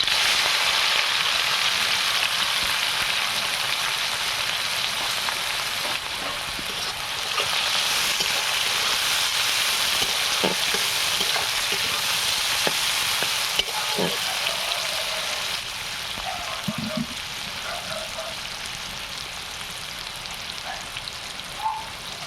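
Onions fry in oil spiced with cinnamon sticks, cardamom, cloves and a bay leaf for a chicken and pointed gourd curry. A steady, close, loud sizzle carries a few scattered stirring taps and clinks, with no talking.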